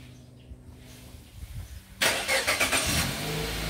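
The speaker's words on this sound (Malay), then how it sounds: "Oke, coba start engine." A Perodua Alza car engine cranks and catches, then settles into a steady idle after a quiet lead-in, heard up close.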